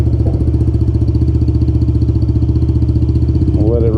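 A kid's motorbike engine, just repaired, idles steadily up close with an even, throbbing putter that holds at one pace throughout.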